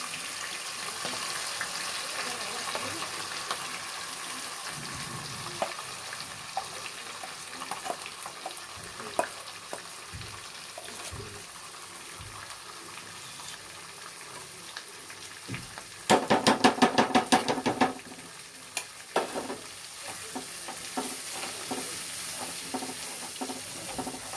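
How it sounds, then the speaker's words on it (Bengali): Spice paste for butter chicken frying in hot oil, a steady low sizzle with occasional stirring taps and a brief louder burst of crackle partway through, no voices. "দেখো তেলটা গরম হয়ে গেছে, এবার আমি মশলাটা এতে দিয়ে দিলাম।"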